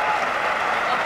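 Tennis crowd applauding after a return in a Novak Djokovic match, a dense steady wash of clapping filling the stadium, with a commentator talking over it.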